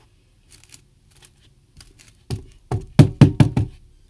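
Kinetic sand is smacked by hand at close range: light taps and pats at first, then a run of five or six louder, dull slaps in a quick rhythm, with no talking.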